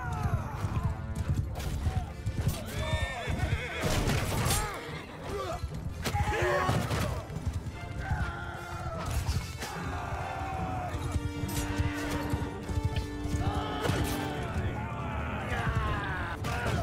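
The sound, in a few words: horse neighing and galloping in Mount and Blade II Bannerlord video game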